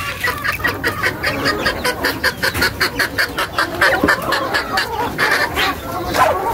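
Hens cluck loudly and close, a rapid run of repeated clucks that keeps going throughout with a few brief pauses.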